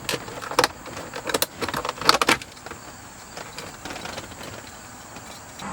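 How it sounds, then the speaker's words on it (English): A flathead screwdriver pries a dashboard panel loose on a BMW E30 interior, giving a cluster of sharp plastic clicks and snaps early on, then quieter faint rustling, no speech. "we'll take a flathead and carefully pry this panel out"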